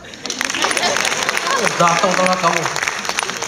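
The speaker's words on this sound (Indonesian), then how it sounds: "Oh, tepuk tangan." An audience claps through a closing concert at Cikini Klasika 2016, the applause steady and moderately loud while voices talk over it.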